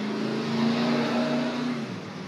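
Motorcycle passing by outside, a smooth engine drone that swells and then fades over a couple of seconds, heard from indoors at moderate distance with no talking.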